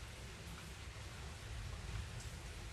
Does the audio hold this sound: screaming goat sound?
no